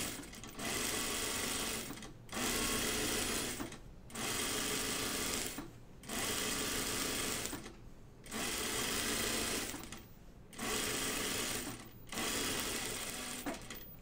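A sewing machine stitches an unlined Wiksten Unfolding Jacket in six steady runs of about two seconds each, with short pauses between them. The machine is close, loud and clear, and there is no talk.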